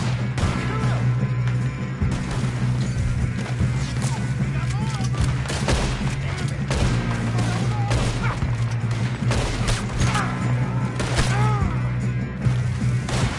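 Rapid gunfire rattles through a Red Dead Redemption shootout, dense volleys and booms layered over a constant rumbling backdrop, with game characters shouting over the shots.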